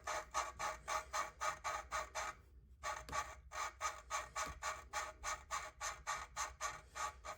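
Valves being lapped on an Audi A4 engine give off a steady, rapid rhythmic grinding scrape, with evenly spaced strokes, then a short pause before the back-and-forth strokes start again. The sound is close up and has no talk.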